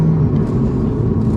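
Mazda RX-8 with a 1.3 liter rotary engine revving, a loud, steady, buzzing engine drone held close to the microphone without any talking.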